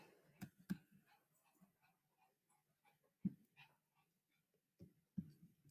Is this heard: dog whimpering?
yes